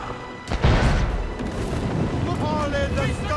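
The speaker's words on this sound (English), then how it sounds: "Man the cannons!" Ship cannons boom in a naval battle in Assassin's Creed Rogue, a heavy blast landing early and then a rumbling, crashing roar of fire and spray that lingers, with shouting voices faintly mixed in.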